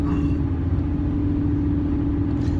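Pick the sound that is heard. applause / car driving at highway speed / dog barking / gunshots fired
car driving at highway speed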